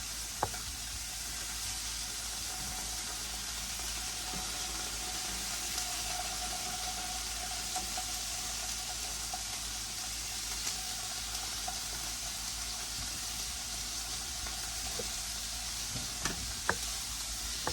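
Venison backstrap pieces sizzle steadily in a hot pan for breakfast, a continuous close frying hiss with a few sharp pops and clinks near the end, no talking.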